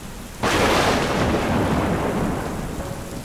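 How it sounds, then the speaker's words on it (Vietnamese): A sudden loud thunderclap bursts in and rolls away into a long rumble over steady falling rain, used as an audiobook sound effect. "nhìn ra khung cửa sổ đẫm nước mưa, có sấm chớp rạch ngang bầu trời"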